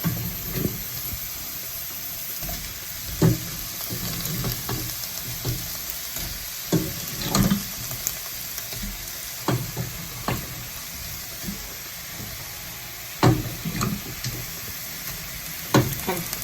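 Onions fry in a pan for a potato and spinach curry, a steady sizzle with scattered sharp spoon knocks and scrapes as they are stirred, close and fairly loud.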